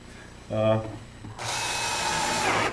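A power drill drives screws into a wooden dollhouse during assembly. A brief spoken word comes first, then the drill whirs loudly and steadily for about a second and a half, close by.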